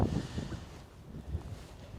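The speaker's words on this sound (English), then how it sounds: "It's very windy today." Gusty wind buffets a windscreen-covered microphone in a cemetery in low, uneven rumbling bursts, with no voices.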